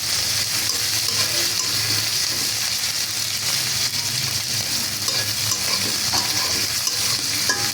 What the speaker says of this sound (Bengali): রসুন লাল লাল করে ভাজলাম না, হালকা ভাজলাম, তারপরে দিলাম কাঁচামরিচ।